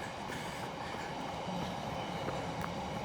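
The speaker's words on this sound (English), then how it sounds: "you can hear the train sound." A train runs past close to the Thames path, giving a steady, fairly quiet rumble of rail noise with faint wheel clatter and no talking.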